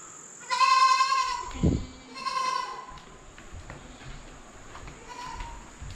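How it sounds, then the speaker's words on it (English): Goat bleating inside an abandoned government building in Ho Chi Minh City, three loud nasal bleats close by with echo, plus a brief low thump and faint rustling between them. "It's a goat."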